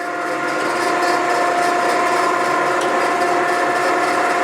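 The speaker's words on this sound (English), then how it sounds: "the table will go ahead and park itself to the right hand side" Okamoto ACCUGAR 124N hydraulic surface grinder with its table moving, a loud continuous mechanical hum with steady tonal whine and faint rattling, running alone without talk.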